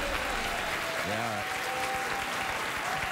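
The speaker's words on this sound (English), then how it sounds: "If you're going to applaud that graphic" Late-night television studio audience applauding, a dense, steady burst of clapping that continues throughout, with a brief voice rising over it partway.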